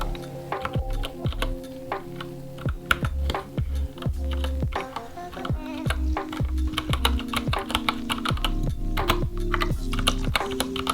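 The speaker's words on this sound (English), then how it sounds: "These switches have a very silent but tactile click." Steady fast typing on an RGB mechanical keyboard fitted with Gateron Brown tactile switches, each keystroke a crisp muted clack close to the mic, rhythmic and unbroken with no voices.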